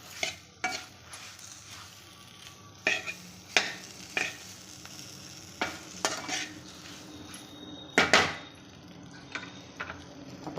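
Green chillies frying with turmeric in a pan, stirred with a spoon in repeated scraping strokes over a steady low sizzle, close and fairly loud, with no voices.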